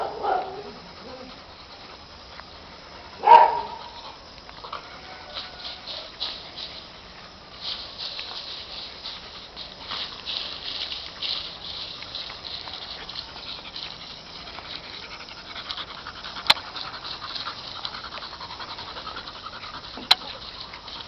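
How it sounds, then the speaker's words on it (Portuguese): A small dog pants quickly and steadily at close range while shuffling and moving about, with a sharp scuffle near the start and occasional faint knocks. "Ah, lá vem aquele cachorrinho chato."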